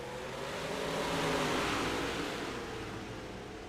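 A pack of race cars roaring away at the start of a heat race in the Dan Dubuque Memorial, a broad, distant engine rumble that swells and then slowly eases off.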